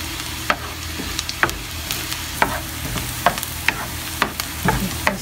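An onion omelette fries in olive oil in a pan, sizzling steadily up close while a utensil stirs and scrapes in short, repeated clicks.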